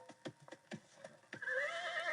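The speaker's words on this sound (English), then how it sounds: "I pulled up my horse and dismounted." Horse whinnying loudly in a dramatized fantasy scene, following a few soft hoof clops as the rider pulls up and dismounts; no voices.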